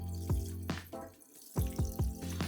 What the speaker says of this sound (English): After 8 minutes, drain the noodles.